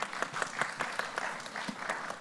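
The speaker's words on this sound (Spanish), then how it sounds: "Un aplauso, sí" Audience applause at a Pansexual Pride Day forum: a modest group clapping steadily with distinct individual claps, at moderate distance and fairly quiet, for about two seconds without talk.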